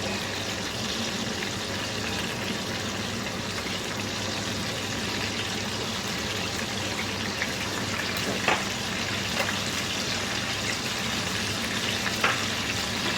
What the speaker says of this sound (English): I've taken it off the heat for what, 4 minutes now, and it's still sizzling